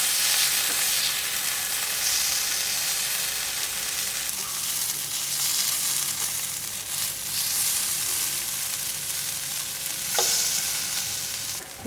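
Raw plantain slices sizzle in oil in a pan while being turned over one by one, a continuous close frying hiss with occasional clicks from the utensil, no voices.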